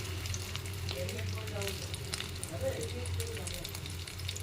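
Fish roe fritters made with semolina and rice flour fry in hot oil, a steady close crackling sizzle throughout with a faint low hum beneath.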